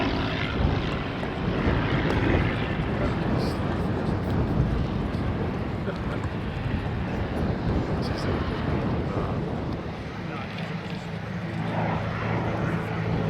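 A RAAF CT-4 propeller trainer flying an aerobatic display, its engine a steady, loud drone throughout that eases slightly near the end, heard outdoors with wind-like broadband noise.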